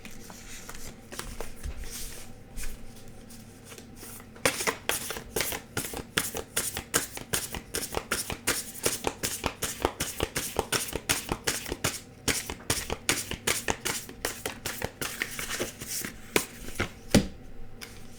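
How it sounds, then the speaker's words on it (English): Oversized tarot cards are shuffled by hand in a steady, rapid patter of slapping, riffling card sounds that runs for many seconds, close up and clear. "They're so big, I can't shuffle them regular."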